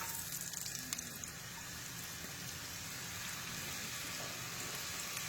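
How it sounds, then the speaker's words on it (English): Steady crackling sizzle of chopped onions frying in hot oil for beef Madras, a continuous close hiss with small pops, no talking. "You can hear the sizzle."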